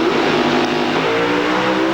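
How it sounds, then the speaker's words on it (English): Pro Stock drag racers, a Pontiac Firebird and a Chevy Camaro, at the 1998 NHRA Pontiac Nationals in Columbus, Ohio, produce a loud, continuous, close engine roar that holds steady for two seconds with no talk. "Jim Yates in the Spitfire Firebird against Larry Morgan in the Chevy Camaro."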